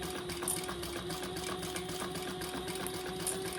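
A sewing machine stitches a small wallet through its outer fabric, giving a steady, even mechanical whir with a constant motor hum and rapid needle chatter, close up and alone.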